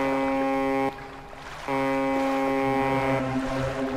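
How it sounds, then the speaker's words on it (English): A boat's deep foghorn in the fishing game Dredge blasts loud and sustained, breaks off briefly, then sounds again at length, with an echoing ambient backdrop. "Hear a foghorn echo."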